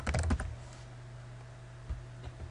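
Typing on a computer keyboard, a quick cluster of keystrokes at the start, then a low steady hum with one faint click later.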